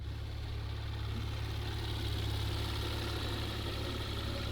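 A Porsche Macan GTS engine idles steadily and close, missing half its running gear, its low rumble joined by the constant whoosh of the radiator fan running throughout.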